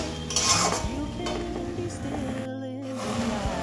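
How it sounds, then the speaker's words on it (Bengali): Spices fry in a pan for pasta as a utensil stirs and scrapes, giving clinks and metallic knocks over a faint sizzle, close and fairly quiet, with a brief gap midway. "ভালোভাবে কষাতে থাকবো। ততক্ষণ না এই মশলাগুলোর কাঁচা গন্ধ যাওয়া পর্যন্ত কষাতে থাকবো।"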